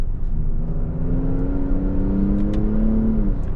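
A Lincoln Aviator Black Label SUV accelerates at half throttle, its engine note rising steadily in pitch through a smooth pull, heard from inside the cabin with no talking.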